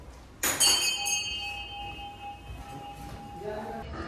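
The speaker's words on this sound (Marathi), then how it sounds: "घंटी वाजते ना ती." A metal temple bell is struck once and rings out with a bright, sustained tone that slowly fades, heard close in a quiet outdoor setting in Kullu on a rainy day, with a faint second tap near the end.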